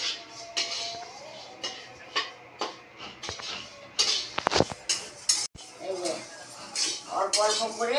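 Flattened rice (chira) is fried in a pan for jaggery sweets, with a utensil scraping and clinking against the metal in quick repeated strokes, busier toward the middle.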